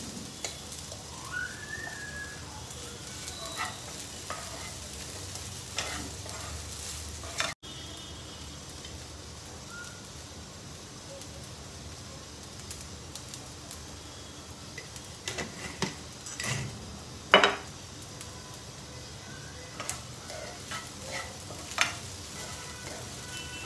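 Tapioca pearls sauté in a pan for grandma's sabudana khichdi, a soft steady sizzle with occasional scrapes and clinks of the spoon stirring, fairly quiet and without speech.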